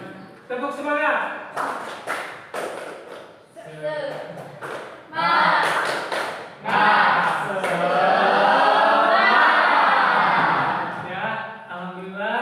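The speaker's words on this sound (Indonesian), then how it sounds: "Tepuk semangat" A class doing the rhythmic Indonesian spirit clap, tepuk semangat: several bursts of sharp group claps mixed with voices and chanting, then a longer stretch of sustained shouting and cheering from the group, loud and close.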